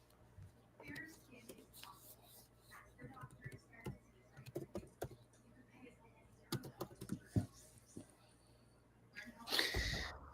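A computer keyboard is typed on in irregular bursts of soft clicking keystrokes, faint and close, with quiet breathy sounds and a louder rustle near the end.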